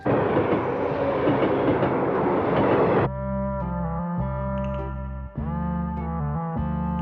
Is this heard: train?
yes